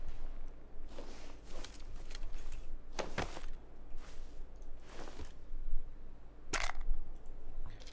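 Several sharp, muffled shots from a silenced sniper rifle in PlayerUnknown's Battlegrounds go off at irregular intervals, each a short suppressed crack over a steady low background hum.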